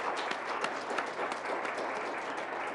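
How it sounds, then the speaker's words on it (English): Sustained applause fills a Black History Month celebration and 2015 Knowledge Bowl event: dense, steady clapping from a room full of people, loud and continuous throughout with no pauses. "Let's give them another round of applause."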